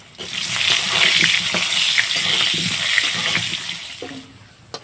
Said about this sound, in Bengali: তো কয়েক টুকরো আলু আমি ভেজে নিচ্ছি।